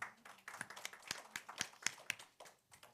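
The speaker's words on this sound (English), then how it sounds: "Let's give that a round of applause" Audience applause at a conference session, sparse and faint, a few people clapping with distinct scattered claps rather than a dense roar; no talk.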